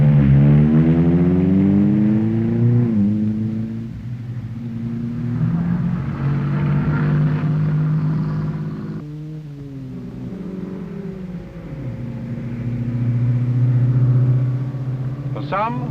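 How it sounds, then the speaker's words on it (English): A Sunbeam Rapier rally car drives over mountain pass roads, its engine note climbing and falling through gear changes, loud and close at times, with a narrator talking over it. "These are the roads and passes over which the Roots Group cars are tested long before production."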